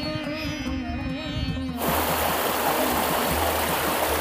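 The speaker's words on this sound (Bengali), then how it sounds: "আহা, কি কুলকুল শব্দ, কান পেতে শুনলাম কিছুক্ষণ" A steady, full rush of a gurgling stream near a waterfall in a wooded park, loud and close, suddenly swelling to a broad, constant roar as it comes in near.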